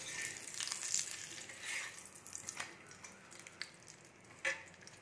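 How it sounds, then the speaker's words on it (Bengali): Roti and paratha fry in ghee in a home kitchen with a soft, crackling sizzle, broken by occasional utensil scrapes and clinks. The sounds are faint and close, and nobody speaks. "তো ঝটপট রুটি আর পরোটাগুলোকে ভেজে নিই"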